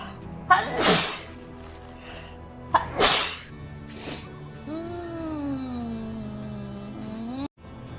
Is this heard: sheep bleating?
no